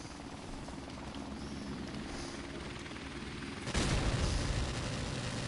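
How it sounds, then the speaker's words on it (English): An enemy helicopter in the shooter game Modern Warfare Remastered, a steady loud rotor drone under gunfire, growing louder and harsher near the end. "Enemy helicopter inbound."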